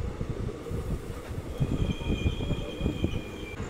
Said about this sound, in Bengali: আমাদের ট্রেন এখন ধুলিয়ান স্টেশনে ঢুকছে